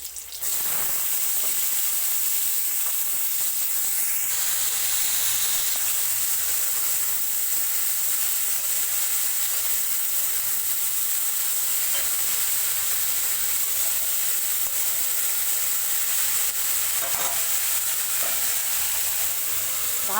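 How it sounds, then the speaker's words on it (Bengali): Yardlong beans fry in a pan with slit green chillies over low heat, giving a steady close sizzle that holds for the whole stretch with a few faint stirring clinks and no talk. "এবার মজে মজে বরবটিটা ভাজা হবে"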